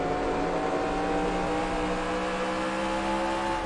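NASCAR Racing 2003 stock cars in gameplay, a continuous steady drone of engines at racing speed with no breaks or passing surges.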